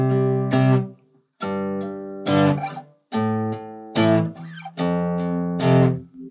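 An acoustic or electric guitar strums chords in a C-based rhythm with the backbeat accented. Six or seven sharp strums ring out in separate bursts, some briefly choked, close and clear with no voice.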